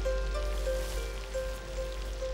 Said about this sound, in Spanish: La lluvia nace del bosque y acaba volviendo a él torrencialmente durante días enteros.